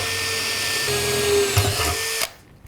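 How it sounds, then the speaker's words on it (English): A power drill bores a small starter hole in a car's metal oil pan, a close, steady whirring hum with a faint high tone that rises in effort briefly before stopping. "first I'm gonna drill a small hole to start it"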